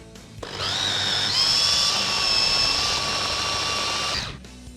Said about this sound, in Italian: e frullo il tutto